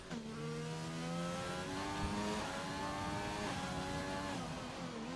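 Race car engine in a sim racing game climbing through the gears, steady rising harmonics with a quick downshift blip midway, loud and continuous with no talk.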